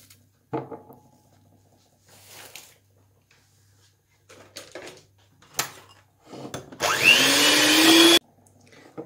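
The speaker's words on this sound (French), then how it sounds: "Le lendemain, je n'ai plus qu'à monter ma ganache au fouet que j'ai placé au congélateur." Ganache whipped with a chilled mixer whisk, short handling knocks and brief motor bursts leading to a loud sustained whirring run near the end, then stopping.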